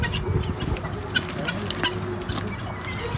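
Chickens, including İspenç and crested birds, cluck close by in a continuous, busy chorus of short calls while they are given their feed.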